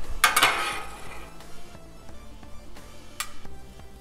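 Vegetables dropped onto a Blackstone griddle for loaded smashed potatoes, a sharp clatter and scrape of a metal utensil at the start, then soft taps and scraping over a faint sizzle, close by and without talk.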